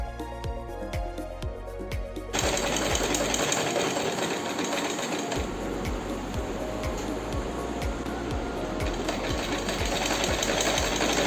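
Sewing machine running steadily while stitching a detachable fabric puff sleeve onto a belt, a loud continuous whir with fast repeating stitch pulses that grows busier after a quiet start, no talking.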